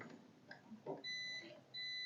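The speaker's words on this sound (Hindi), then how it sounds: "ये देखिए, बीप साउंड कर रहा है हमारा डोर स्विच।" Multimeter continuity test on the door switch of an LG microwave: a quiet, clean electronic beep sounds in two sustained bursts after some soft handling noise, faint and close.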